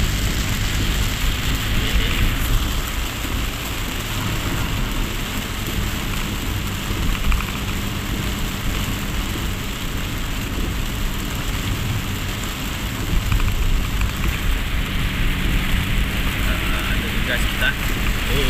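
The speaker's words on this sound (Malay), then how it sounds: "hujan kuat." Heavy rain roars steadily as a dense, hissing wash, with occasional low rumbles and muffled voices underneath.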